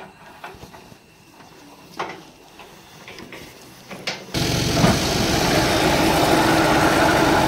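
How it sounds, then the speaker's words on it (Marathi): A tractor engine parked in a vineyard shed starts up partway through, then runs with a loud, steady drone after scattered knocks and clatter. "इकडे आपला ट्रॅक्टर लावला आहे उजेड पडण्यासाठी"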